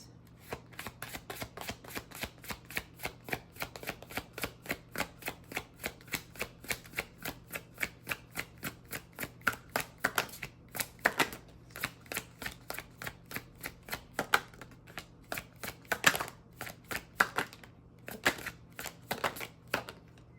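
Oracle cards being shuffled by hand, a long run of quick riffling flicks and soft slaps repeating in close rhythm, fairly quiet and alone without talk.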